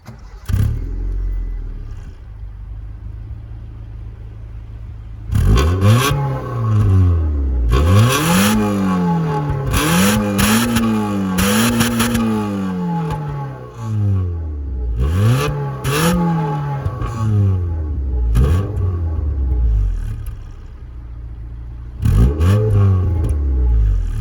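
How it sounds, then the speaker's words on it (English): An EK Honda Civic drives and accelerates hard, its engine rising repeatedly in pitch through several gear changes with brief drops between pulls, loud and close throughout. "Alright, onto the drive of the Honda Civic."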